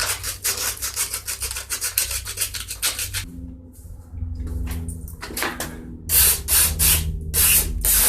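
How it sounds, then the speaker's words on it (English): Quick back-and-forth rasping strokes of fine grit sandpaper scrub an electrical contact on a vintage Sears Briggs & Stratton engine, pausing briefly, then resuming with a brighter, scratchier rhythm. "I can clean this side of the contact off real good with some fine grit sandpaper"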